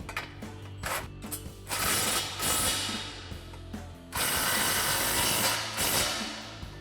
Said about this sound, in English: we'll grab our impact with our 16 and 18mm wrench